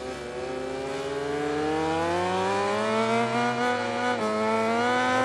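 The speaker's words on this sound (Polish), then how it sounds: "No, ale szybki ten motocykl jest." A Honda motorcycle engine in the MotoGP 20 racing game winds up in a loud, steady rev, its pitch climbing smoothly over about five seconds with no one talking.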